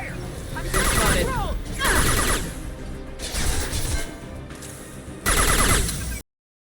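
Gunfire in the video game Mass Effect 2 on Insanity difficulty, loud sustained bursts of automatic fire in several volleys separated by short gaps, with game effects and a voice in between.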